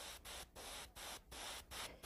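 Airbrush spraying pearl bronze paint onto fingernails, a close hissing spray cut into short bursts of roughly a third to half a second with brief gaps between them.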